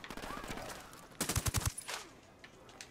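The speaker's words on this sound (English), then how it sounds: "Who's shooting? Where is this guy coming from?" Gunfire erupts in Ghost Recon Wildlands as a quick, loud burst of rapid shots cracks out in the middle of the clip, followed by a few fainter scattered reports. A voice talks around the shooting.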